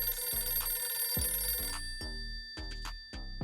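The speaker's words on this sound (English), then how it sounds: "the room phone rings." A hotel room telephone at a Punta Cana all-inclusive resort in the Dominican Republic rings in repeated electronic bursts, loud and close, with short gaps between rings and no talking.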